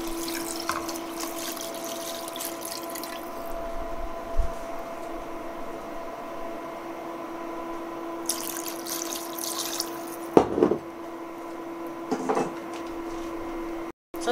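Water poured into a pot of pork for sinigang, a continuous steady splashing, trickling stream with a faint ringing tone, broken by a few louder clanks and knocks of the pot.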